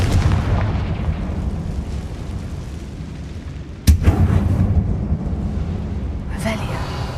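A Confringo fire spell explodes with a sharp, loud burst over steady game ambience in Hogwarts Legacy, set in a tomb-like closed mine, followed by a rumbling decay.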